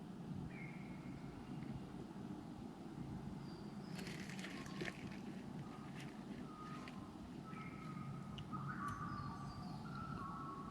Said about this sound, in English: Those birds sound like mobile phone ringing.